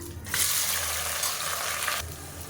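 Onions and green chillies sizzle in a pan for mutton kulambu, a close, steady hiss of frying that swells briefly and then settles back, with no talking.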